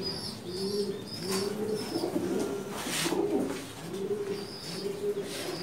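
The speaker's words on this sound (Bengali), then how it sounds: "অনেকগুলা কবুতর দেখতে পাচ্ছি, অনেক কবুতর।" Pigeons coo in a crowded loft of pet pigeons, with repeated soft, throaty calls overlapping close by and a few faint higher chirps between them.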